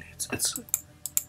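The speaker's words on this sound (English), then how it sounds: "Oh, I love the noise of my mouse clicking." A few sharp, quick computer mouse clicks at a desk during Minecraft play, sounding close and crisp in irregular succession beside a speaking voice.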